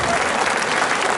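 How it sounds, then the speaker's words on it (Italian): Brief burst of audience applause at an Italian mayoral event, dense close clapping from a crowd filling the whole moment. "Un applauso all'inno."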